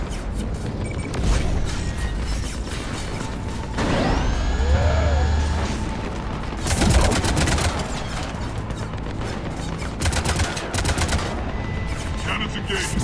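Heavy cannon fire in the Mass Effect 3 battle on Omega: loud, booming broadband blasts come in bursts over sustained mechanical and electronic game noise, with a rising whine mid-way.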